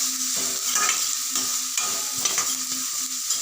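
Finely chopped onion frying in a pan, a constant close hiss of sizzling oil broken by rhythmic stirring scrapes every half second or so, no voices.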